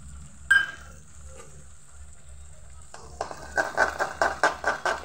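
An egg fries in oil with panch phoron in a pan. A quiet hiss comes first, then a louder sizzle joined by a rhythmic run of scraping stirs, with a low steady hum underneath.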